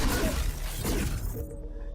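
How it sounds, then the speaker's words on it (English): A grenade blasting apart the environment in The First Descendant video game, a loud close burst of shattering debris and crashing fragments that trails off into a rumbling tail, no talk. "The grenade is primarily a destruction tool. Debris and destruction will stagger enemies as a grenade to destroy environments."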